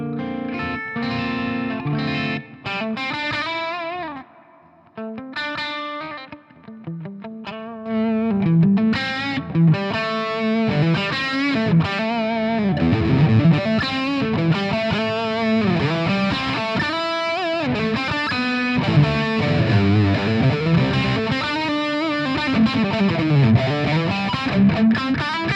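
Electric guitar on the back pickup with its volume rolled down for a clean-up tone, played through a Laney Ironheart Foundry amp pedal; steady picked chords and single notes ring continuously and loudly with slight grit and chorus-like shimmer, no voice.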